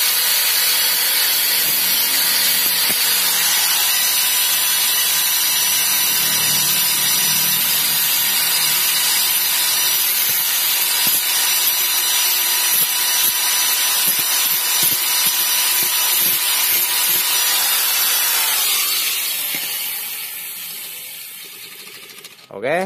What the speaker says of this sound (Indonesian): Kemudian potong sisanya ini pakai gerinda.